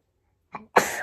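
One person sneezes once, nearby and loud: a soft intake of breath, then a sharp explosive burst that trails off, in an otherwise quiet room.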